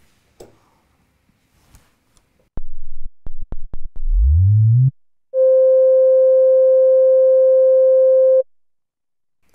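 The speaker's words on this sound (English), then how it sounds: "Maybe let's just listen to the resonance and tune the resonance on its own." An ARP 2600 synthesizer filter self-oscillates with its oscillators off: a few sharp clicks and short blips, then a rising resonant sweep, followed by a steady pure tone held for about three seconds before cutting off.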